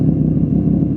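A BMW E36 drift car's engine runs loud and close for a moment, a steady low rumble with slight rev fluctuation and no talk over it.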